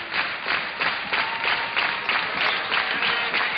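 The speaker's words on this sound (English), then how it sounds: "Nowhere else in the United States do you hear that sort of rhythmic clapping" A stadium crowd at a 1995 track meet two-mile race claps in unison, a steady rhythmic beat of roughly two to three claps per second rolling on under the event's ambient noise.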